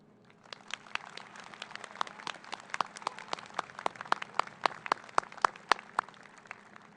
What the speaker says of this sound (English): Please join me in a round of applause congratulating Drake for being the class of 2020